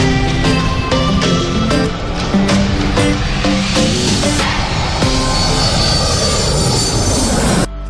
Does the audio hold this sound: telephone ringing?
no